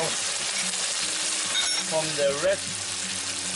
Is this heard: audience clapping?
no